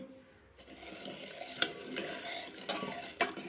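Pepper powder being stirred into melted jaggery in a pan, a steady scraping stir with a faint sizzle and a few sharp clinks of a spoon against the metal.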